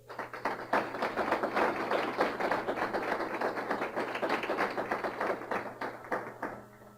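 A church congregation claps together during a Spanish-language sermon, a fast, steady patter of many hands lasting several seconds before tapering off, over a faint low hum with no voices.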